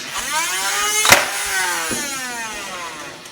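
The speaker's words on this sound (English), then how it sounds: "when you pull the trigger, it revs the flywheels" A steady mechanical whir with rising harmonic sweeps as the flywheels of a Powerstrike 48 toy dart blaster rev up, with a sharp click partway through.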